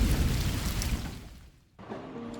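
Steady heavy rain at night on the Konkan coast pours as a dense wash, fading and cutting off briefly before resuming more softly.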